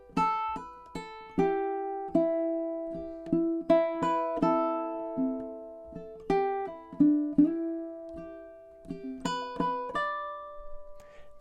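A solo ukulele plays a fingerpicked arrangement of Wayfaring Stranger, with plucked melody notes and softer inner notes ringing close and clear in a steady, unhurried rhythm with no talking.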